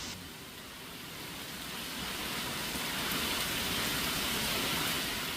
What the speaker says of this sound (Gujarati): આ વરસાદ સતત બીજા દિવસે વરસાદ યથાવત સુરત જિલ્લામાં જોવા મળી રહ્યો છે